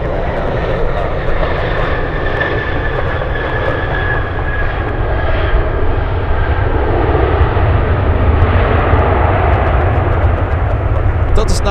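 A Delta Boeing 737-800 flies in toward Anchorage with a loud, steady jet roar that stays close and constant throughout, with a person talking over it.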